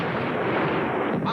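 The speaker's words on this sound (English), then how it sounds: "Give him salvo." Bomber salvo sound effect from a 1943 radio drama: a dense, continuous roar of rumbling blasts, loud and close, filling the whole moment without a break.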